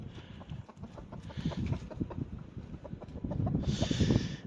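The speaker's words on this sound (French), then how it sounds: "ça c'est le coq de l'année dernière" Last year's cockerel on a small backyard flock, clucking and calling repeatedly at close range, with a brief brighter crow-like burst near the end.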